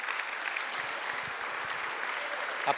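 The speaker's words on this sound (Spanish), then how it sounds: "Si va a aplaudir, aplauda al Rey de Reyes." A church congregation applauds in a continuous, even patter of many hands, moderately loud, with a faint voice underneath.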